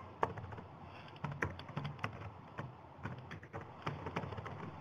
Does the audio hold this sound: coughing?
no